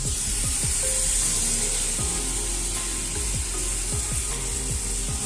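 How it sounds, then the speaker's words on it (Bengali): Taro stolons with fried shrimp and mustard paste are stirred in a pan under a constant hiss of frying, with repeated scraping strokes of a spatula against the pan. "এবারে এইটা দিয়ে আমি এটাকে ভালো করে নাড়াচাড়া করে নেব"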